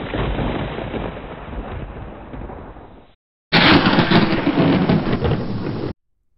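Heavy thunderstorm with dense, loud rain and rumbling thunder, broken by a brief silent gap before a second, louder burst of the storm.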